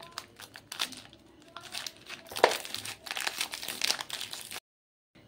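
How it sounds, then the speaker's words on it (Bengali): Plastic Oreo biscuit packets being cut and pulled open, giving a close, busy run of crinkling, crackling and tearing wrapper noise for several seconds before stopping abruptly. "তো এই যে এইভাবে আমি 3 প্যাকেট কেটে নিচ্ছি।"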